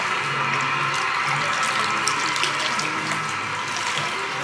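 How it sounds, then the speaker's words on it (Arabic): Tap water runs continuously while hair is being washed, a steady close splashing hiss with no break. "هلا انا عم اغسل شعري، صار دوري."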